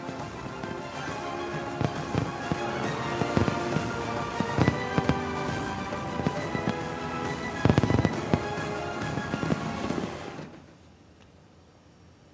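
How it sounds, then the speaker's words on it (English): Fireworks crackle and pop continuously in dense, overlapping bursts with occasional louder bangs, then fade out abruptly near the end. "capped off by the record-breaking fireworks display."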